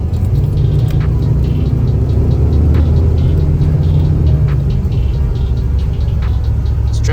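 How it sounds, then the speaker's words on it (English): A 1996 Ford E-350 van rolls along on a test drive. Its engine and road noise make a loud, continuous low rumble that holds steady from inside the cab, with no voices. "let's go for a test drive"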